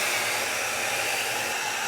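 An InStyler 7X smart hair dryer blows a steady, airy whoosh at close range, even and uninterrupted throughout, with no voices over it.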